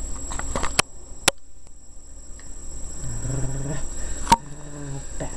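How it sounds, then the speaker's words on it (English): A tired dog shifts about with soft pattering movements and a few sharp knocks, then gives low, rumbling growl-like sounds in the second half, close by in a quiet room. "Dog."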